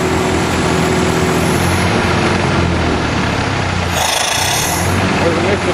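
A wood gas tractor engine, running on a mix of gasoline and wood gas, drones steadily at close range with a continuous low rumble. The tone shifts briefly near the end.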